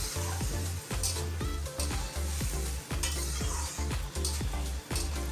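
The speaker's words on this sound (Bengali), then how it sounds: "বেশ কয়েক মিনিট ধরে এটি ভাজতে হবে" Soaked Gobindobhog rice frying in a pan for Bengali muri ghonto, with a steady sizzle and a spoon scraping and stirring about once a second, close and fairly loud, with no talking.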